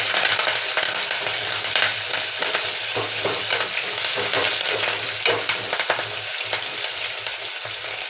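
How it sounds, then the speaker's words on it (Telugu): Onions, green chillies and curry leaves sizzle steadily in a hot pan, with repeated scraping of a spoon stirring them close up and no talk over the frying. "చూడండి ఉల్లిపాయలు పచ్చిమిరపకాయలు వేగినాయి కదా."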